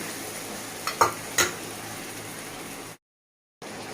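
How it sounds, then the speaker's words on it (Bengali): Fish being sautéed with a little water in a pan for a Bengali five-spice fish curry, a steady soft sizzle with a few brief stirring scrapes near the start, then a short silent gap. "মাছটা তো আমি এটাতে অল্প অল্প জল দিয়ে দিয়ে কষবো"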